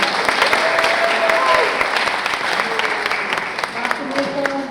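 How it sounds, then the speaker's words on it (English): Audience applause at a community council candidate forum, a dense, steady clapping from a crowd that fills the whole clip and fades slightly toward the end. "Audience, give yourselves a round of applause."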